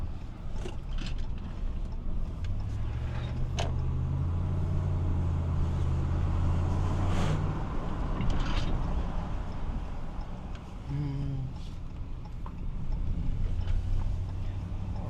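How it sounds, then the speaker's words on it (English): A rebuilt truck on a test drive past roadwork gives a low, steady engine and road rumble heard from inside the cab, with a few faint knocks and rattles and no talk. "So let's go ahead and do a little test drive and make sure everything's good with this thing."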